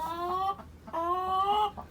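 A hen clucks in a hen house, two drawn-out, nasal, wavering calls close by, separated by a short gap, with no speech over them.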